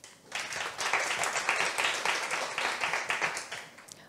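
Applause from a startup pitch day audience, a moderate, steady wash of many hands clapping that swells in quickly, holds for a few seconds and tapers off, somewhat distant and without talk.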